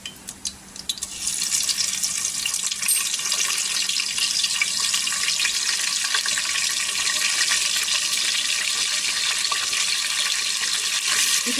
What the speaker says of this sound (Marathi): आता इथे तेल गरम झालेलं आहे. ह्याच्यामध्ये जिरं टाकायचं. जिरं छान असं तरतरलं पाहिजे.